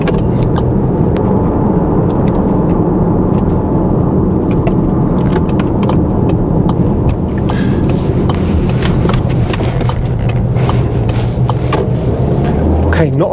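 A 2024 VW Tiguan with two-wheel drive and a 7-speed DSG gearbox drives along, its engine and road noise forming a steady low rumble inside the cabin, with a voice at times.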